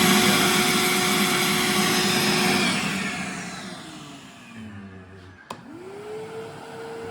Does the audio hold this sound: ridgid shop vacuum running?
yes